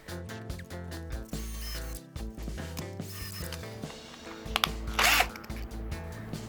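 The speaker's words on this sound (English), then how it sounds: "I started making holes all the way through into the 2 sides of the lower torso part" Small drill whirring in short bursts with clicking and mechanical rattles, close by, drilling holes through a small cube, with a brief louder grinding burst near the end.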